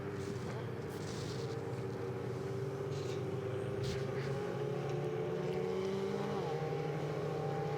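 Ferrari Challenge race cars at Road Atlanta circling slowly behind a safety car, a steady droning engine hum with gradually shifting pitch heard at a distance.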